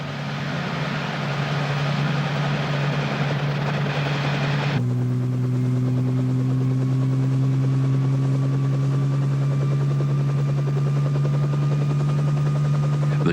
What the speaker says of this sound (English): The chopper hovers a few centimetres off the ground, and a moment later it's over 200 metres above Jim Jim Creek.